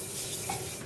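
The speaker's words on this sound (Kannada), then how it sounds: "ಸಾಸಿವೆ ಸಿಡಿದ ಮೇಲೆ ಜೀರಿಗೆ ಹಾಕೋಣ." Mustard seeds sizzle in about two spoons of hot oil for a tempering for upma, a close, steady hiss lasting under a second with no speech.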